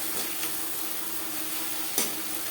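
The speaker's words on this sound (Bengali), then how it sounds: "লবণ হলুদ মশলা ও টমেটোর সাথে বেশ ভালো করে মিক্স করে দেবো" Salt, turmeric, spices and chopped tomato stir-fried in a little oil in a pan for a rohu fish curry, a soft steady sizzle with a few spatula scrapes and one sharper knock near the end.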